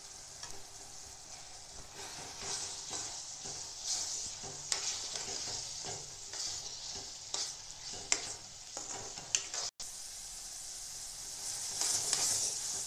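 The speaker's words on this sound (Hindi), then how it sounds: "मावा भी मिक्स कर देंगे।" Mawa is folded into a simmering matar paneer gravy whose oil has separated, a soft sizzle and bubbling under gentle, uneven scraping strokes of a spoon, fairly quiet and close with no speech.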